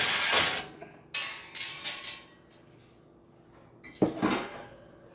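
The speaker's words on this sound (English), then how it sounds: "Take the racks out." Metal oven racks are pulled from a Chambers Model C gas oven, giving several loud scraping, clattering bursts of metal on metal separated by quieter pauses, close up with no talking.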